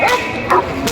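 A German Shepherd at a busy pigeon market gives three quick, sharp barks and yips close by, with people talking in the background.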